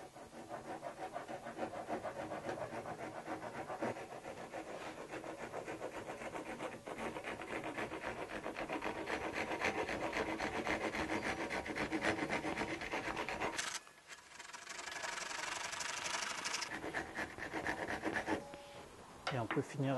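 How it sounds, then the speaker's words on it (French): Steady rasping of a hand file working wood, a continuous scraping rhythm of back-and-forth strokes, close up, with a brief pause near the end. "Et on peut finir avec une lime, comme ceci."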